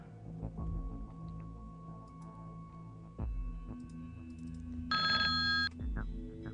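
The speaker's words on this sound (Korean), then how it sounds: "전화가 울린 것이다." A telephone rings in a horror radio drama, a bright electronic ring bursting in for under a second over a low, brooding ambient bed and scattered ticking sounds.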